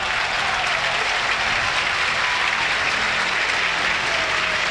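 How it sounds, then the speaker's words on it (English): Football crowd at Burnley versus Blackburn Rovers applauding substitutes before kick-off, a steady, dense wash of clapping from a large stadium audience that holds level throughout with no talk over it. "Applause for one or two of the subs"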